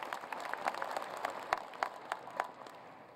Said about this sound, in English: how about another round of applause for these two?